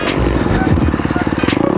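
A pit bike rides a wooded motocross track at Hidden Oak MX in South Texas, its small engine buzzing close and loud with rapid revving pulses and throttle changes throughout.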